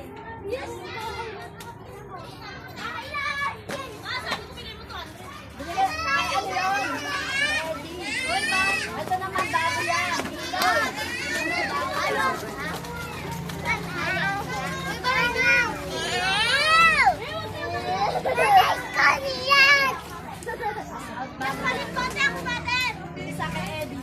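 A large crowd of children plays and chatters continuously at close range, with overlapping shrieks, calls and laughter swelling and fading throughout.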